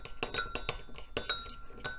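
A spoon stirs a dipping sauce in a small dish, producing a quick, irregular series of bright clinks and taps against the container, close and distinct, with no talking.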